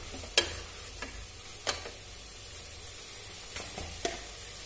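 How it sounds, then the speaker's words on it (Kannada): Vegetables sizzle in a pan with a steady frying hiss, broken by several sharp clinks and scrapes of a spoon stirring against the metal. "ತರಕಾರಿನ ಇದ್ರೆ ಸ್ವಲ್ಪ ಹುರಿತೀನಿ"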